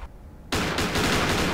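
A water shotgun firing in the horror game Granny: after a half-second of near silence, a loud, dense broadband burst of rapid gun-like bursts continues steadily to the end, with no talking.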